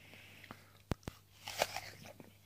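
Teeth bite into a small crunchy red apple from an organic allotment garden, two sharp close snaps followed by a burst of moist crunching and chewing, quiet and intimate.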